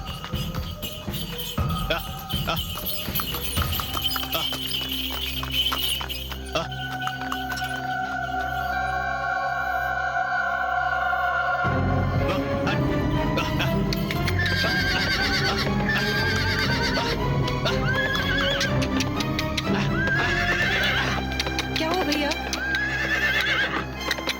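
A horse neighs with long, wavering whinnies while hooves clip-clop in a steady rhythm, set against a layered dramatic music score in a Hindi horror drama scene.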